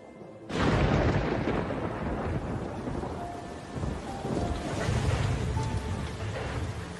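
Steady heavy rain with rumbling thunder in a storm setting, sudden onset after a short quiet start, then a dense continuous downpour with deep rolling rumbles throughout.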